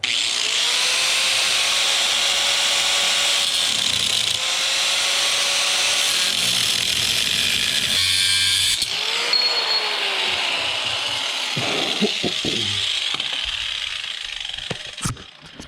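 An aluminum turbo housing is cut and sanded with a power tool, giving a loud, sustained grinding whine that shifts pitch as the blade bites, ending with scattered scraping and knocks.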